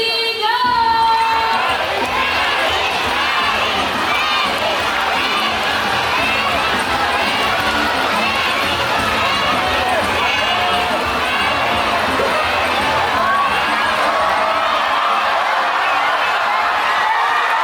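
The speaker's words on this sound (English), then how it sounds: "now Cocky supporters, come on guys, you have to cheer louder" A crowd at the High Flyers bird show at Jurong Bird Park, Singapore, cheering and shouting loudly for Cocky, a dense sustained roar of voices with children's yells, continuous and close.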